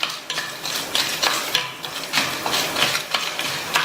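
Dried red chillies and lentils dry-roast in a pan over medium heat, the spoon scraping and stirring in quick, rhythmic strokes over a light rattle of the pieces, close and fairly loud.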